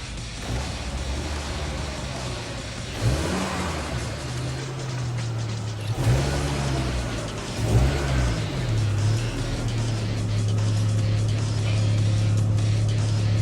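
A warmed-up 1998 Volvo V70 engine idles and is driven into a garage, a steady close mid-pitched hum with a few brief revs rising and falling before settling into a continuous drone.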